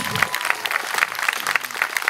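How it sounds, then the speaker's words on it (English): Audience at a charity birthday bash gives a soft, distant round of applause, a steady patter of many hands throughout. "Let's give them a round of applause."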